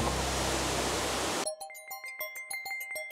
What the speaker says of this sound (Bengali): ঝাড়খণ্ডের এই মতি ঝর্ণা সত্যিই অপূর্ব সুন্দর